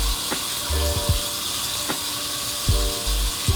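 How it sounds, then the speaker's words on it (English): Tap water running into a bathroom sink during a face-washing skincare routine, a steady broadband hiss throughout with a few brief knocks and clatters of hands and items near the basin. "So turn on the water."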